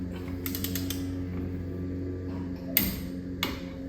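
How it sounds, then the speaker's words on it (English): A torque wrench ratchets on a wheel bearing nut, tightening it to 50 foot-pounds in a brake job: a run of fast close clicks, then quiet, then two sharp metallic clicks as it reaches torque, over a low steady hum, with no talking. "So now I'll torque this to 50 foot-pounds."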